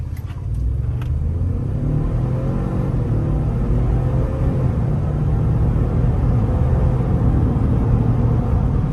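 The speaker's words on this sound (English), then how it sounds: "you can hear the sound of the turbos" A 2019 Ford Expedition with a twin-turbo V6 accelerates at full throttle in normal mode with rear-wheel drive, producing a loud, steady, low engine rumble heard from inside the cabin that holds for the whole run.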